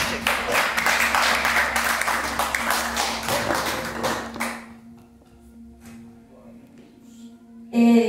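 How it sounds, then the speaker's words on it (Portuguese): A church congregation gives a round of applause that lasts about four seconds and then quickly dies away, leaving a quiet room with a sustained organ or keyboard tone underneath. "Pode se assentar dando linda salva de palmas ao Senhor"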